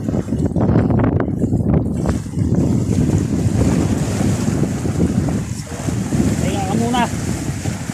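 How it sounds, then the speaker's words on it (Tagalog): Strong wind buffets the microphone on a boat at sea during jig lure fishing, a loud, steady roar that fills the whole stretch with only faint, brief sounds underneath. "Hangin."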